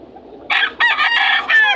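A fighting rooster for sale at Bicutan market crows close and loud, one long strained cock-a-doodle-doo in several segments over faint background market murmur.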